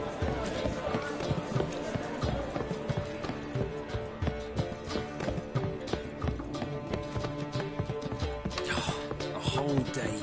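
Roach, a horse in The Witcher 3, trots with steady, close clip-clopping hooves and gives a possible neigh, set within a dense, busy game soundscape with a voice talking.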